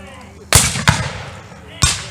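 Civil War field cannons fire three sharp, loud booms at a reenactment on a plantation, spaced unevenly with a short gap between the first two and a longer pause before the third, over faint outdoor background.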